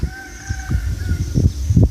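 Free-ranging chickens, including hens with chicks, in a rural Thai village setting give low, intermittent clucks close by. Steady faint high-pitched tones from insects or birds sit in the background.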